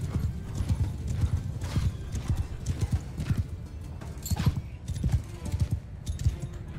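Cavalry horses gallop into battle in the video game Mount & Blade 2: Bannerlord, with rapid, overlapping clip-clop hoofbeats drumming steadily up close and a neigh or two breaking through.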